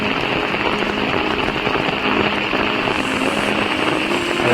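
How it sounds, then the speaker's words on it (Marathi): Steady, heavy monsoon rain in Konkan pours down continuously, a dense hiss of drops drumming on surfaces with no voices, the downpour intensifying slightly toward the end. "पावसाला पण जोर वाढला"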